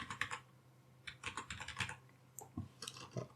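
Rapid clattering of keys as code is typed on a computer keyboard, an uneven run of close, crisp clicks in short bursts with brief pauses between them.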